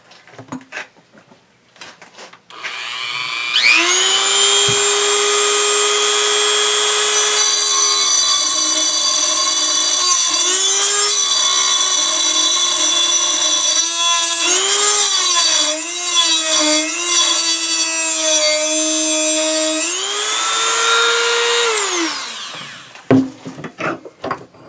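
A Dremel EZ Lock thin metal cut-off wheel spins up with a high whine, then bites into a thick metal plate clamped in a vise, its pitch dipping and wavering under load for about fifteen seconds before winding down, close and loud.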